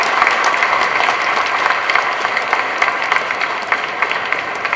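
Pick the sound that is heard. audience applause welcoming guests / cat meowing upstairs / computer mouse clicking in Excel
audience applause welcoming guests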